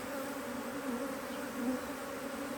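Honey bees hum steadily around an open hive during an early spring inspection, a continuous low droning buzz at moderate level with slight swells, and no talking.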